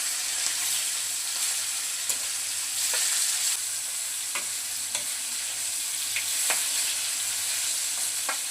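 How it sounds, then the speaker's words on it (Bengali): Flipped pangas fish keeps frying in hot oil, a steady close sizzling hiss with occasional sharp pops and light scraping clicks of a spatula. "মাছের এক পিঠ ভাজা হয়ে গেছে, এখন উল্টে দিচ্ছি।"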